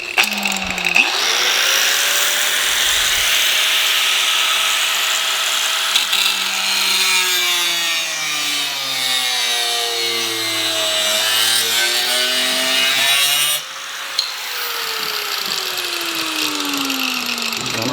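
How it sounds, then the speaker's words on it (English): A power tool saws steadily through strakes for a Seibon diffuser on a Supra, a loud continuous whining cut with shifting pitch that dips mid-way, then a brief break and a second pass starting near the end. "Now we're gonna cut the strakes for the Seibon diffuser"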